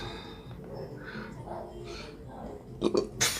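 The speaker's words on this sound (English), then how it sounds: "as I burp like that, that's like how people" A person lets out a short, throaty burp in a few quick bursts near the end, following a stretch of quiet talking.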